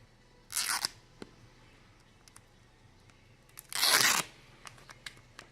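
A sticker label is peeled off a package of potassium nitrate, producing two short ripping tears, the second longer and louder, with small clicks and handling noises in between.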